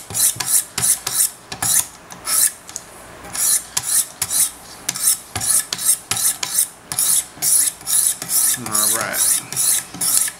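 A Wicked Edge sharpener hones a micro bevel on a large Sebenza 21 Insingo knife, with quick, crisp rasping strokes in a fast, regular rhythm, close up, and a brief word spoken near the end.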